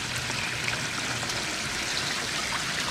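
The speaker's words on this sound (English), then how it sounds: "So you can see my little box filter, which I do love that little thing, shooting water out just like a jet" A small box filter in a homemade bait tank jets water out, making a steady, close rushing and splashing stream that runs unbroken and alone.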